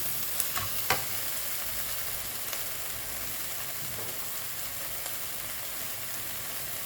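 A Vietnamese dumpling filling with oyster sauce being stir-fried in a pan, a steady close sizzle with a few light clinks of the utensil against the pan.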